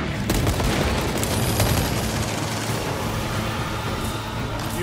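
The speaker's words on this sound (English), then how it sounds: "grenade out!" Grenade explosion and gunfire in the Warhammer 40K Space Marine 2 video game: a dense, constant roar of battle with rapid weapon fire and booming blasts, loud and unbroken throughout.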